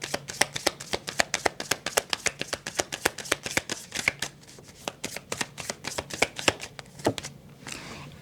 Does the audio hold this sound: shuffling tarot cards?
yes